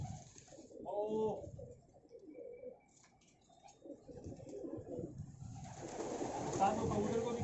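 Low, soft cooing from pigeons kept in a rooftop loft, faint beneath people talking nearby, with a rising rush of rustling or wing noise toward the end.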